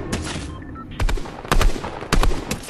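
Fortnite gunfire in a close exchange: bursts of sharp, loud shots arrive in three clusters, each a quick volley of cracks with game ambience between them.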